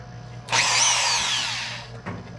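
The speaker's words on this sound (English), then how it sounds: "just using a drill." A power drill spins up and whines steadily for about a second and a half while lapping engine valves on a Honda D16Y8 engine build, then winds down, with a brief clunk after it stops.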